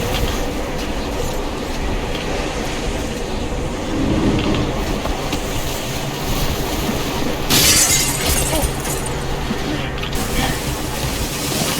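Cave-in in Metro Exodus, a loud dense rumble of collapsing debris and grinding metal with sharp shattering crashes rising partway through, continuous and heavy.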